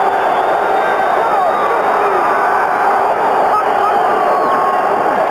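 A large football crowd fills the Silverdome stadium with a loud, dense, continuous roar and murmur that stays steady throughout, with no distinct single voices standing out.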